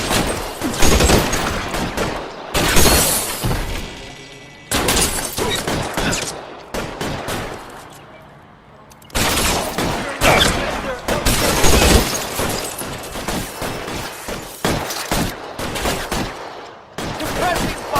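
Sustained suppressing gunfire in the video game L.A. Noire, repeated loud bursts of shots in clusters separated by short lulls, with heavy rattling volleys and occasional breaks of quieter sound.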